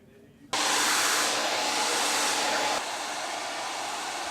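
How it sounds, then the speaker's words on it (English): A hair dryer switches on abruptly and blows steadily at close range while drying curly hair, a loud continuous whoosh that drops slightly in strength partway through. "so that we can finish drying in the direction that we want these curls to be"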